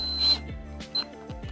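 A screw being driven through the rubber foot of a Harbinger VARI V2408 8-inch powered PA speaker with a lock washer, giving a short whirring burst followed by a couple of brief mechanical ratchety clicks, close and quiet.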